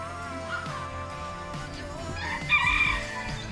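Birds in small zoo aviary cages at Patiala Zoo call steadily in the background, with a louder, crowing call near the end.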